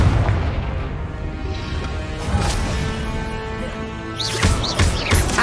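Confringo explosive spell blast in Hogwarts Legacy, a burst of booming impacts and crackling debris at close range, with several sharp hits clustering toward the end over a rumbling game backdrop.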